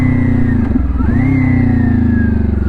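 A motorcycle engine blips and drops through gears with the clutch pulled and released, loud and close, the revs dipping and climbing again under engine braking.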